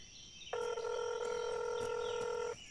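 Telephone in the video game INFRA gives off a steady electronic dial tone that starts abruptly and holds for about two seconds before cutting off, clear and fairly quiet, with faint ambient hum behind.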